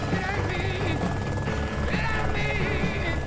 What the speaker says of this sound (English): Plane's coming your way.